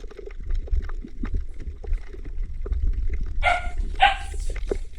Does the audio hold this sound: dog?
yes